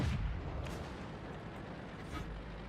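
A Panzer IV shell strikes the player's tank in World of Tanks, a loud rumbling impact at the start followed by a sustained low roar of battle noise with faint crackles.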